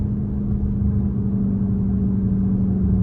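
A Dodge Charger engine being shifted with paddle shifters gives a steady, close, low droning rumble with a constant mid-low tone, loud and even throughout with no talking.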